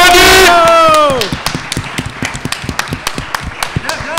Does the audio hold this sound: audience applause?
yes